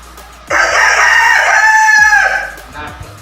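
A hen searching for a place to lay eggs gives one loud, drawn-out clucking call lasting about two seconds, close by, followed by quieter soft clucks.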